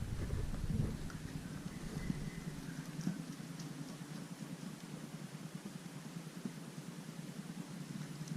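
Steady rain falls outdoors as a continuous hiss that carries on for the whole stretch, with a low rumble at the start that fades away, and no voices.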